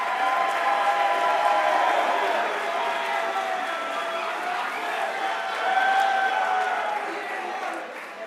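An audience applauds a class of academic inductees at an awards event, a steady wash of clapping and crowd noise that swells slightly near the end, fairly distant and even.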